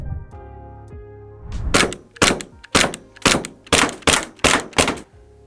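Cybergun Canik TP9 Elite Combat airsoft pistol firing seven sharp, evenly spaced blowback shots close by, each a crisp snapping crack, after a quiet lead-in with faint clicks.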